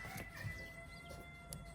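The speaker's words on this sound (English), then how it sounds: "I don't know if you can hear these chickens" Chickens cluck and squawk intermittently in the background, faint and scattered, near a car graveyard, with a steady high tone running underneath.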